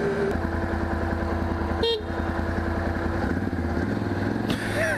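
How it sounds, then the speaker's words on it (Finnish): Vehicle horn honking over steady motor traffic noise, with short loud toots standing out above the constant engine drone and street hum. "Vittu mikä torvi."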